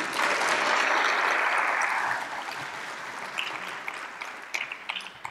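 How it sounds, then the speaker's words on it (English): An audience at a conservative policy talk gives a brief burst of applause that is loud at first, then thins after a couple of seconds into scattered claps. "Another round of applause for him, please."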